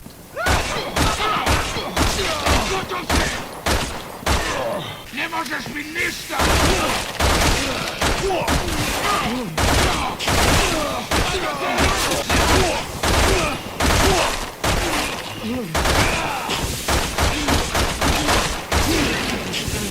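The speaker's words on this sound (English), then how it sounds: "So now let's test the triple shot on a Joavo." Rapid triple-shot burst fire from a handgun in Resident Evil 6 cracks out in steady repeated volleys over loud, busy game noise and impacts, with a voice talking over it.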